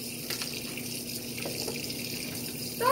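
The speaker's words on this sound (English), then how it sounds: "let's get that tap water rolling" A kitchen tap runs steadily into a sink, a continuous soft splashing gush at moderate level with a brief louder surge near the end, and no voices.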